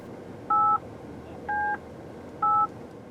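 Three separate DTMF keypad tones sound while a number is dialed by hand on a Buick IntelliLink infotainment system, each beep steady and clear, lasting about a quarter second, with roughly a second between them over a faint background hiss.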